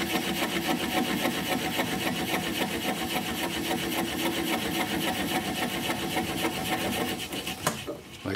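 A wood lathe spins a wooden bowl while a gouge cuts through under heavy sideways pressure, making a rapid, rhythmic scraping chatter with a faint motor hum. It continues steadily, then shifts abruptly near the end.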